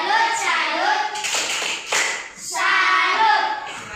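Schoolchildren clap their hands together in a classroom lesson to salute group 2, with bursts of sharp, fairly close claps broken by short pauses, and young voices chanting rhythmically in between.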